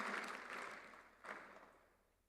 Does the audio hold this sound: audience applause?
yes